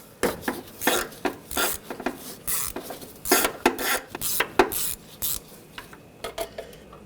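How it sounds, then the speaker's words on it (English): A 10mm socket and ratchet loosen the caged rear intake bolts on a 2004-2012 Chevrolet Colorado with the 3.7L engine, giving irregular close metallic clicks, scrapes and clanks with brief pauses between. "On the back of the intake, you can take these bolts out,"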